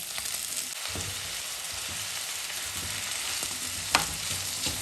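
Saltfish frying in a pan outdoors in Jamaica for roast yam and saltfish, a steady close sizzle and crackle with occasional stirring scrapes and one sharp clink near the end.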